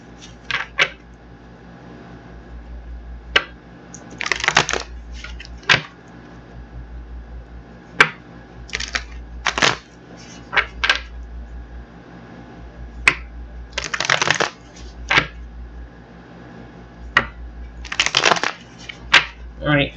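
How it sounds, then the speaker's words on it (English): Tarot cards being shuffled by hand, a series of crisp papery riffling bursts in irregular clusters with sharp snaps between them, close and fairly loud over a steady low hum. "So we're going to get these cards shuffled up and see what's cracking for you."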